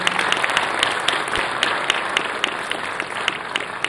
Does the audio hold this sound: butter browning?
no